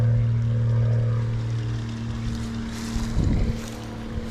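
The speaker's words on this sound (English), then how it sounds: "Sorry, the plane's going over." An airplane passes overhead outdoors, a steady low droning rumble with wind noise that swells and then fades, with a brief nearby knock near the end.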